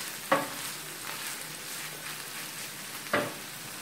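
Low, steady sizzling of finely chopped tomatoes frying in a pan, with two sharp stirring scrapes standing out over the quiet crackle.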